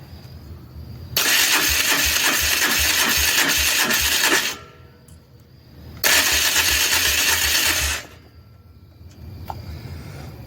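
A 2001 Polaris engine that has sat unused for three years cranks in two long, loud bursts of several seconds each, with a rhythmic churning of the starter and a pause between the attempts, and it never catches.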